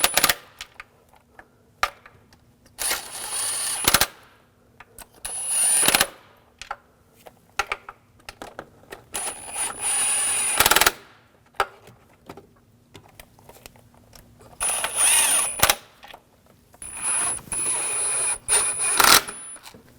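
A power tool snugs down intake manifold bolts on a 2007-2013 BMW 328i 3.0L inline-six, running in short loud rattling bursts separated by pauses, close and harsh.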